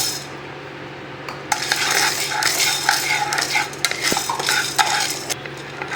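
Dry chana dal lentils rattle and scrape in a pan as they are stirred while dry roasting, a busy rustling clatter with occasional metallic taps of a utensil.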